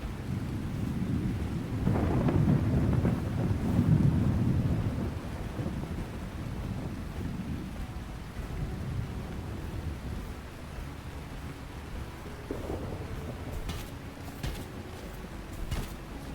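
Muffled rain falls steadily in Lightyear Frontier, with a low rumble of thunder rolling near the start, then a soft, even wash of rainfall continuing alone.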